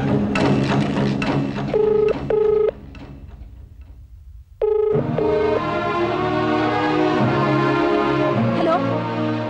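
Someone dials a telephone number: a handful of separate keypad tones sound in two short bursts, over background music that drops out briefly between them.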